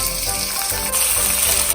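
Chicken pieces hit a smoking hot wok and sizzle loudly and steadily, a dense close frying hiss that swells slightly midway, with no voices over it.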